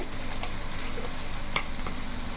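Onions frying in a pan give off a steady, close, continuous sizzle, broken now and then by soft scrapes of stirring, with no one speaking.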